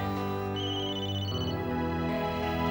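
A telephone rings unanswered indoors, an electronic ringtone with repeating tonal phrases continuing steadily and fairly loud, with no one speaking.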